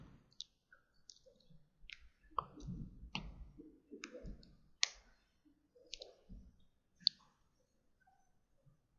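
Computer mouse clicks during a software login, a scattering of sharp, quiet single ticks spaced irregularly, with faint background rustle and no speech.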